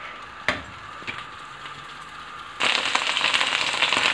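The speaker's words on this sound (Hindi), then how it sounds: "आंच मैंने ज़रा तेज़ रखी हुई है ताकि जल्दी से ये फ्राई हो जाए" Okra (bhindi) frying in oil over high heat, starting with a few sharp pops and then surging into a loud, dense crackling sizzle once more okra hits the pan, close and without talk.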